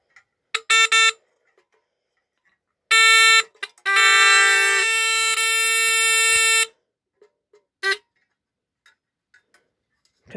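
Vintage 1965 Fedtro Giant fire heat alarm, model FA-1, made in Japan, rings in loud bursts: a short ring, a longer one, then a sustained clanging stretch of several seconds with a brief final burst, separated by quiet gaps with small handling clicks.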